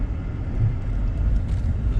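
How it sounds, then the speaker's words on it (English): A vehicle drifting out on a frozen lake surface gives a steady, loud low rumble of engine and tires that holds evenly throughout with no break. "Oh, that's a good drift."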